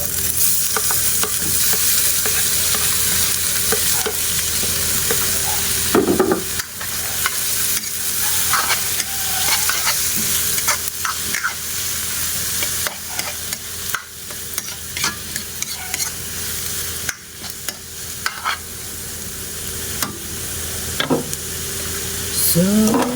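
Tomatoes fry in a pan while being stirred during the cooking of tiny dulong fish, a steady close sizzle with intermittent scraping stir strokes, and no talk over it.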